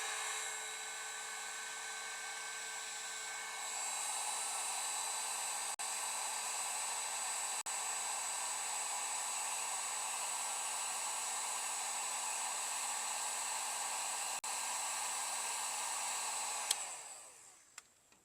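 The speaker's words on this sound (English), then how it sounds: "Now we'll put the heat shrink on there. Heat shrink it up." A heat gun runs on the heat shrink tubing over a soldered fuel gauge wire, a steady, close whining blow that steps up slightly in pitch early, holds for over ten seconds, then cuts off with a few clicks.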